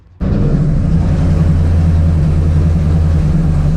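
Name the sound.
car engine being started for a street test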